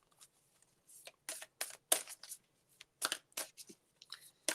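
A deck of playing cards is shuffled by hand in a series of crisp riffling bursts, about a dozen in quick irregular succession, close to the microphone with short quiet gaps between them.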